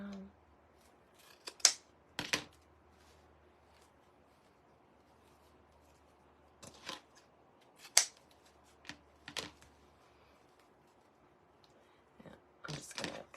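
Scissors snip ribbon tails on a gingerbread wreath, with several short, crisp cuts in scattered bursts and quiet pauses between them, close up and clear.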